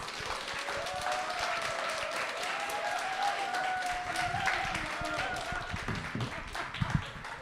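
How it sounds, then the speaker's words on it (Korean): A church youth congregation claps to welcome the pastor to the front at a Korean worship service, moderately soft and fairly steady, with a voice speaking over the clapping. "가장 좀 큰 박수로"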